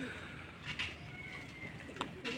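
Pigeons coo in a low, rolling murmur outdoors after rain, with a couple of sharper calls near the end and steady background noise.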